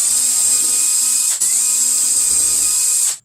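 A power drill whirs steadily while boring a small pilot hole for a shed lock, a loud high-pitched whine with one brief dip midway before it stops abruptly.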